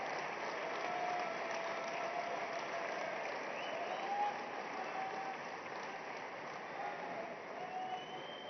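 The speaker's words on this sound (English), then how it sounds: "Prime Minister of India, Shri Narendra Modi, with a thunderous round of applause for his inaugural address." Audience applause fills a large hall at the Vibrant Gujarat Summit in Gandhinagar, India, a sustained, dense clapping from a big crowd, steady and fairly distant throughout the clip.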